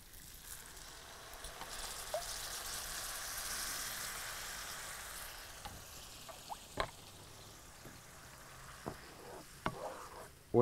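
Mushroom arborio risotto stirred in a pot, a soft continuous simmer and bubbling under scattered spoon scrapes and clicks, close and fairly quiet, with a louder knock at the end.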